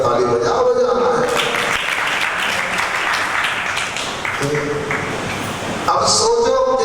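Sustained applause from an audience at a religious discourse gathering, dense clapping that swells and continues for several seconds, with a voice speaking over it near the end.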